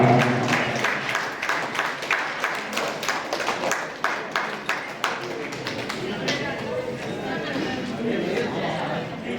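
An audience claps in a fast, even rhythm at a charity event where free wheelchairs are given to disabled people, the clapping fading toward the end with chatter and voices mixed in.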